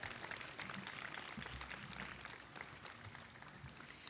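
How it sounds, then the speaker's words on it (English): Graduates and guests clap at a university mid-year commencement ceremony, a quiet, distant, continuous patter of applause filling the hall without letup. "Give yourselves a round of applause."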